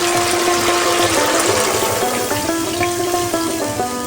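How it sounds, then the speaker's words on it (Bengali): Water is poured into a pan of fried-down ginger paste and spices for taro kofta curry, giving a loud, steady rushing and bubbling wash that runs unbroken for the whole stretch. "মশলা কষানো হয়ে গেছে এবার আমরা জল দিয়ে দিব"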